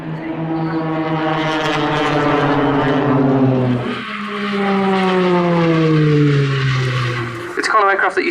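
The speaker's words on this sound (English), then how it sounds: "The Tucano aircraft that you see displaying in front of you today is the stepping stone for flying a military fast jet" A Tucano turboprop trainer performs a display pass at a seaside air show, its engine a loud sustained drone that sweeps down in pitch as the aircraft passes, then rises again, with a brief burst of noise at the end.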